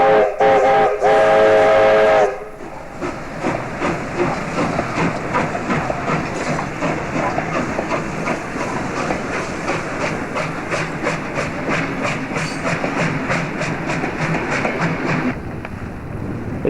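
South Australian Railways steam locomotive 621 arrives at Tailem Bend station, opening with a loud steam whistle blast, then a steady clattering rumble of wheels and carriages rolling past close by.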